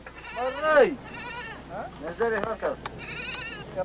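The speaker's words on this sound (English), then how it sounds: "When the goat we had been carrying with us was brought out for the kill" A goat carried along by soldiers and brought out for slaughter bleats loudly and close, several wavering cries in a row with short gaps between them.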